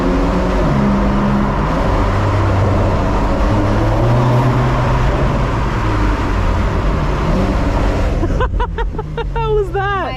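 A Porsche 911 Carrera S (992) is driven through a short tunnel. Its engine drones loudly and steadily, with shifting pitch and a sharp revving burst near the end, and voices are heard over it.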